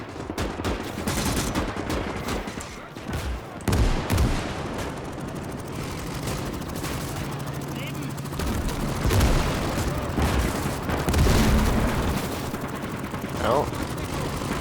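Gunfire and heavy booming shots ring out during a Gates of Hell Ostfront battle as a Panzerjäger tank destroyer fires, with irregular blasts and bursts of small-arms fire and muffled voices talking underneath.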